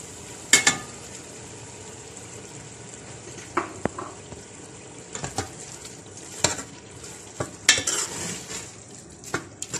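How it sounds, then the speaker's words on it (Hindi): Minced meat (keema) frying with masala in a pan, a soft steady sizzle under repeated sharp scrapes and clinks of a spoon stirring against the metal pan. "कीमे को थोड़ी देर तक मसाले के साथ भूनना है"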